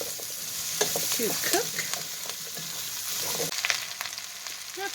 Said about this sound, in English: I'm going to go ahead and add the potatoes I cut up. Get those nice and coated in that grease